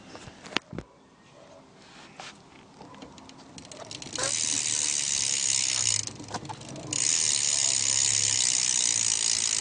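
A BMX bike's rear hub freewheels with a fast, continuous ratcheting buzz, close and fairly loud. It starts after a few scattered handling clicks, stops briefly, then runs again to the end.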